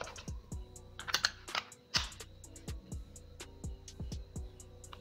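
Typing on a wireless mini keyboard, a close, crisp run of quick clicking keystrokes in an irregular rhythm, heard alone with no talking.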